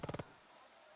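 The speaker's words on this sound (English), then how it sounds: "So we'll have them shoot this unit. Suppressive fire." Suppressive gunfire in the Burden of Command strategy game: a short rapid burst of about four loud shots at the start, followed by a fading reverberant tail with no talk.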